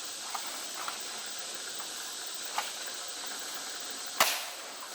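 An Adventure Force Half Dart toy blaster fires once, giving a sharp airy snap with a brief hiss that tails off. A few faint clicks come before it over steady background hiss.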